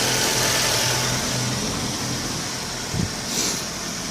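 A car engine hooked to an engine carbon cleaner machine runs steadily at idle, a loud, continuous low hum with a slight bump partway through.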